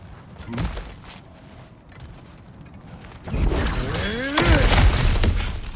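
Objects are smashed apart in a Norse-mythology action video game, with a quieter stretch of scattered knocks giving way to loud, crashing bursts of shattering debris near the end.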